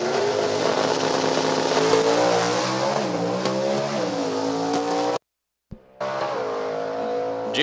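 Hemi-powered drag racing car tearing down the strip at an NHRA Division 4 event at No Problem Raceway. The engine roars loud and close and its pitch wavers, then cuts out abruptly for a moment before the roar resumes.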